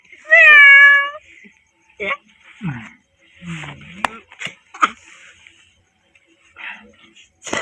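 A cat gives one clear, drawn-out meow near the start, followed by scattered rustles, clicks and quiet voices.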